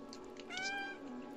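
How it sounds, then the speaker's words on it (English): A cat meows in the video game Stray, one drawn-out, rising and falling meow heard clearly and up close over a steady game background hum. "Press B to meow."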